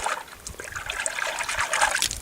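Water sloshes and trickles as it is stirred in a gold panning tub with Jet Dry added, a soft, continuous close-up splashing with no voices.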